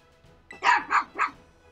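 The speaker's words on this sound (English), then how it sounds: "Sorry about my dogs barking." Dogs bark three times in quick succession, loud and close, with nobody talking.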